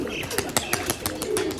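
Sialkoti pigeons coo and flap their wings close by, with a rapid series of sharp wing claps and soft cooing mixed with someone talking over them.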